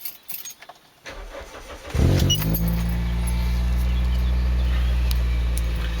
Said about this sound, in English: So what I'll do is I'll just quickly start the engine.